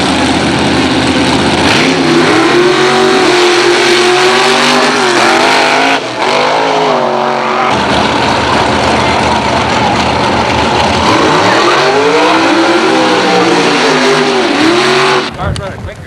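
An injected Roadster drag race car roars loudly at close range, its engine revving and rising in pitch through long acceleration runs, while an announcer talks over the noise.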